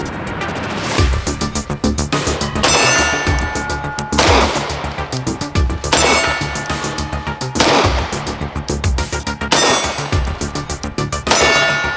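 A SIG Sauer P226 Legion pistol fires in single action, sharp loud close reports spaced roughly every one to two seconds, each ringing out with a metallic clang as rounds strike steel targets.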